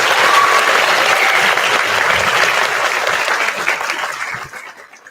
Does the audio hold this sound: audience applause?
yes